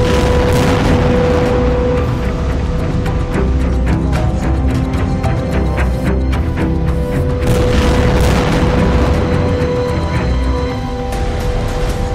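Explosions from Israeli strikes on Hamas and Hezbollah fighters form a dense, loud stretch of booms and rumbling blasts that runs on without a break. They sound like heavy bombardment in war news footage.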